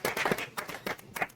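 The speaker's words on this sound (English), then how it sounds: "Come on, clap it up." A small group of people clapping and cheering after an announcement of film festival awards, a short ragged burst of claps, close and fairly quiet.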